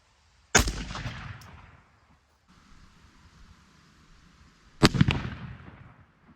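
Shotgun fired at a target 20 yards away during a choke tube test: two loud, sharp blasts about four seconds apart outdoors, each with a short decaying echo, and quiet rustling between them.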